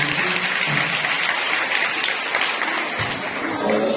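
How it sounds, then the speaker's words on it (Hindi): Loud applause from an audience at a Women's Day parish gathering, a dense, continuous roar of clapping that holds steady for the whole stretch. "हाथ में और जोरदार ताली बजाएंगे।"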